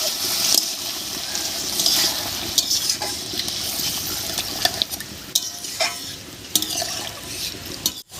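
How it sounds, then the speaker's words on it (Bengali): Hot water hits spiced masala frying in a pan for Bengali rui fish curry, giving a steady sizzle and bubbling with scattered clinks and scrapes of a stirring spoon. "এবার এর মধ্যে দেব গরম জল"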